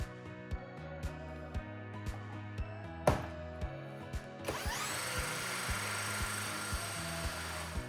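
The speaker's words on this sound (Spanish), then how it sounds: "Colocaremos un perno Allen en el eje del alternador para accionarlo con un taladro de batería." A cordless drill spins an alternator shaft through an Allen bolt. Sharp regular clicks come first, then the motor whirs up into a steady, close high whine that holds to the end.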